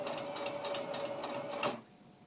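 A sewing machine stitches an underquilt in a fast, even mechanical whir with rhythmic needle ticks, running close and loud before stopping abruptly.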